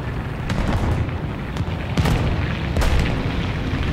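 Tank battle in War Thunder ground realistic mode: a string of loud booming cannon hits and explosions lands around nearby tanks, irregular heavy blasts over a constant rumbling background.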